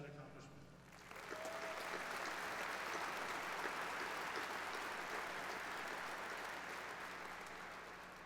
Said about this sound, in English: How about a round of applause for that accomplishment?